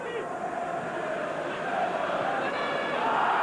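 Stadium crowd at a 1996 Premier League football match between Newcastle United and Aston Villa, a sustained roar of shouting fans rising toward the end, under a commentator's voice.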